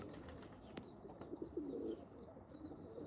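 A white pigeon coos softly in a short low burst, faint against quiet background chirps and ambient noise.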